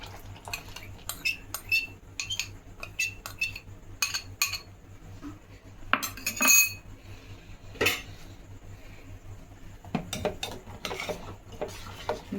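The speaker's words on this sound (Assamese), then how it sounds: "দি কিনে এনেকৈ লৰাই থাকিব লাগিব অলপ সময়ৰ কাৰণে" A small spoon clinking against a bowl while stirring sugar into milk for custard, irregular close taps and scrapes in bursts with short pauses, no talking.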